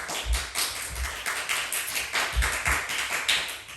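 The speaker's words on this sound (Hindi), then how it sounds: "ये यहाँ ये आप तालियों का आवाज़ जो सुन रहे हैं" People clap at an Independence Day celebration in a steady, fairly close patter of many hands, with a few heavier low thumps, and no talking.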